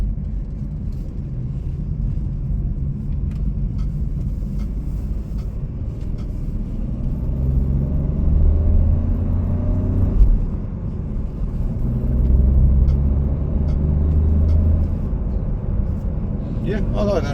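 A Jeep Avenger drives on the road in second gear, giving a steady low engine drone and rumble from inside the cabin that swells slightly twice as the car accelerates.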